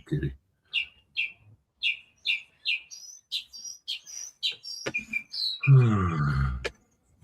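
A bird chirps very close to the microphone in a string of sharp, evenly spaced tweets that quicken into higher calls, with a voice briefly speaking at the end.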